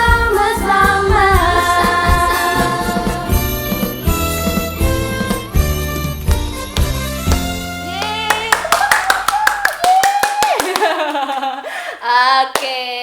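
A congregation claps along at an online children's church worship service. The steady, rhythmic handclaps ring out over loud worship music and voices, and they grow sharpest and most distinct in the final few seconds.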